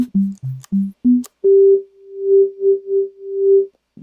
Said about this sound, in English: Yeah, that's a sine wave.